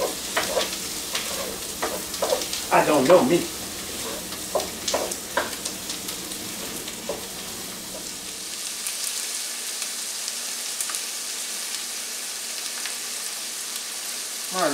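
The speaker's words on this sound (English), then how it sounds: "The smell of them onions sauteing down." Onions sautéing in a pan for crawfish étouffée give a steady sizzle with stirring scrapes; a few short words are spoken over it early on before the frying carries on alone.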